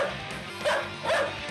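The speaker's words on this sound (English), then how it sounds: "They even got the dog on the mic and shit." A dog barks in the audio of the Evil Zone anime fighting game, two short yipping barks close to the mic over a faint hiss, with a brief pause between them.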